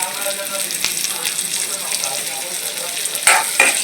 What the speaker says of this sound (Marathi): जिरं झालेलं आहे, यात घालायचं आहे आपल्याला चॉप्ड लसूण